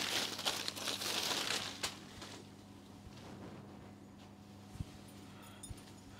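Crinkling plastic packaging as a saree is unfolded at a textile wholesale shop, a busy rustle in the first two seconds, then quieter scattered crackles and a few sharp ticks.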